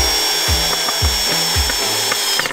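Cordless power drill running in bursts, its motor whirring up and down in a repeating on-off rhythm, close and fairly loud, likely driving into wood, with no talking.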